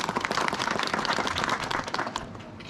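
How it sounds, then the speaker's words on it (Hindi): Audience applause at a public gathering in a Uttarakhand village: a dense, steady wash of many hands clapping, loud and continuous throughout, fading slightly toward the end. "अब आपने तालियां तो बजाई"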